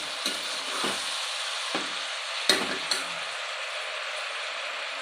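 Vegetables for a veg biryani fry crisply in a pan, a steady close sizzle punctuated by several scraping stirs of a spatula, with no talking.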